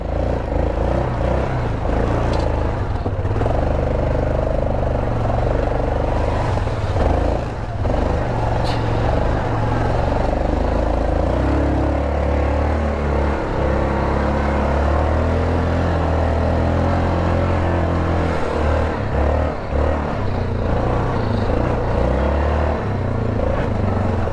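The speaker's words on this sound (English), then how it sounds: "when I give it too much throttle, it starts bogging" A Yamaha Grizzly 660 ATV engine bogs under heavy throttle while mud bogging, giving a loud, continuous, strained rumbling drone that barely lets up.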